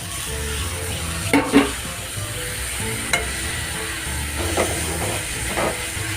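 Tomatoes frying with onions in a pan for egg curry, continuous hissing sizzle with a few sharp utensil clicks and stirring, no voices.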